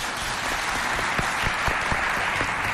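Steady applause from an audience at a school quiz competition between two lycées, a dense even patter of many hands with a few sharper individual claps standing out near the listener.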